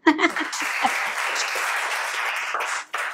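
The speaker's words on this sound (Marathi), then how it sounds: "जोरदार टाळ्या देऊया तिला" An audience bursts into loud, sustained applause, dense clapping from many hands that swells quickly, holds steady for a few seconds, then briefly dips and picks up again.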